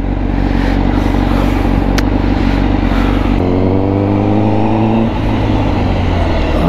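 A Honda CBR1000RR-R sport motorcycle accelerates hard in first gear, its loud, close engine note rising steadily, then dropping in pitch and climbing again as the rev tone shifts.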